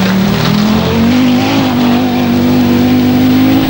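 An Audi Quattro S1 rally car with a 20-valve five-cylinder turbo engine races on a special stage. The engine drones loud and close at high revs and climbs steadily in pitch as it accelerates.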